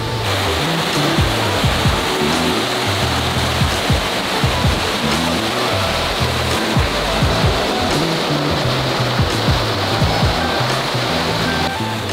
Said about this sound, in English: Just a couple little cross waves there, but mostly it's fast and smooth.